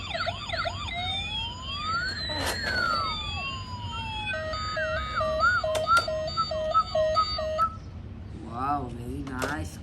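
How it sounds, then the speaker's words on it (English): A toy police car runs through electronic siren patterns: swooping wails, then stepped beeping tones and a warbling burst. The sirens are close and loud, with a steady background hum and speech mixed in. "It's a police car."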